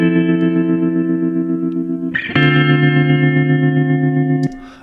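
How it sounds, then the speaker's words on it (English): Sustained electric guitar chords through a Spaghetti Western style tremolo amp with heavy reverb in Ableton Live, one chord ringing, then a louder chord change held before cutting off with a reverb tail. "obvious tremolo with a bunch of reverb."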